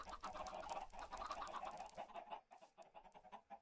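Chickens clucking at a chicken farm in Minecraft (Hexxit modpack), a dense, steady flock sound near and fairly loud that thins and becomes more broken toward the end.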